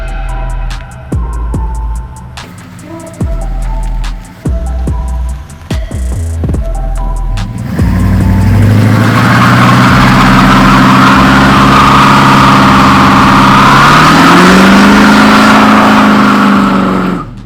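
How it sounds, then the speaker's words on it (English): A car doing a burnout right after a transmission repair: a series of sharp clicks and short bursts gives way to a loud, sustained engine roar mixed with a broad hiss as the tires spin. "that was my first ever attempt at a burnout"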